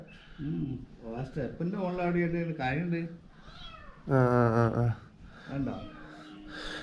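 A kitten trapped in a well with water at the bottom gives high, plaintive meows that echo repeatedly, a longer cry standing out, while someone speaks over and between the calls.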